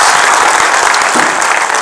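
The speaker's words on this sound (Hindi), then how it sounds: "रामकिशन के लिए और ताली बजा सकते हैं क्या?" An audience claps loudly and steadily for Ramkishan at a storytelling training session, a dense sustained applause filling the whole moment with no speech over it.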